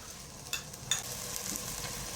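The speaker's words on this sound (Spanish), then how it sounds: "Y agregamos todo el ají panca, aquí, así, aquí lo vamos dando vuelta que sofría" Onion and ají panca paste sautéing in a pan, with a soft steady sizzle and a few sharp stirring clatters near the start, close and moderately quiet.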